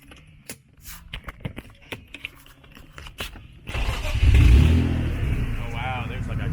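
A BMW E36 drift car with a full exhaust and a blown front gasket fires up after scattered clunks and talk, then revs loudly and settles into a deep, rumbling idle, with voices nearby.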